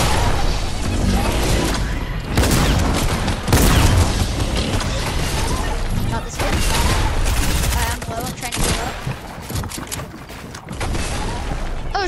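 A snowball launcher in the video game Fortnite fires in rapid, loud, repeated blasts with booming impacts, while voices talk over the barrage.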